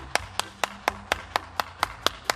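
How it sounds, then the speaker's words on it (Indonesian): Hands clap together in a slow, even rhythm, about ten sharp single claps heard close by during a children's online Sunday school session, with a faint background hum. "tepuk tangan dulu dong buat Tuhan kita"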